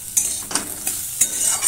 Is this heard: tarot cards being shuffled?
no